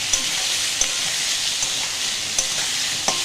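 Potato and eggplant fry in hot oil with a steady, close crackling sizzle, while a spatula taps the pan at regular intervals roughly every 0.8 seconds.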